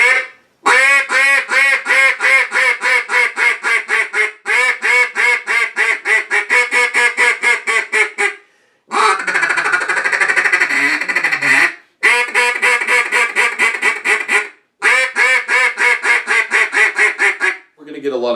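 A duck call, the Fat and Sassy, blown in rapid bursts of chuckles and bouncing hen quacks, loud and close, separated by short pauses with one raspier stretch in the middle.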